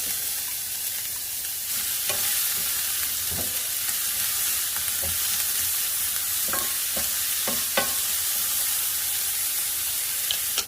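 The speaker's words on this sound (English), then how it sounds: "I'm gonna let the onions cook first and give them a head start." Onions frying in preheated cooking oil in a pan give a steady close sizzle throughout, with scattered brief stirring clicks and scrapes and no talking.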